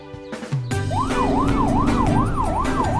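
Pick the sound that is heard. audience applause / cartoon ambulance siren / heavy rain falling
cartoon ambulance siren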